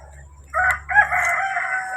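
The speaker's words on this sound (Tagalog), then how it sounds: "Nakatapos ako magpakain itong mga manok." A rooster crows loudly and close by in a backyard flock of chickens, one drawn-out call rising over a low background hum.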